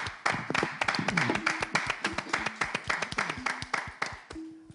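Audience applause at a French live show, a crowd clapping in a lively uneven patter of sharp claps with a few louder bursts, near and steady throughout, briefly joined by faint voices.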